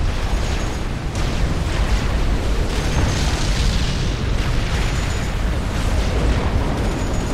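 Naval vessels explode in a Supreme Commander battle as a continuous loud, rumbling roar of blasts carries deep booms and scattered crackling bursts throughout, with no talk.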